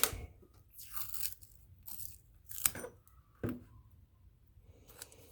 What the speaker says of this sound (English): I'm just taking the tape off